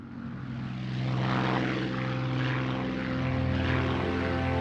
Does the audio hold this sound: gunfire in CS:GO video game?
no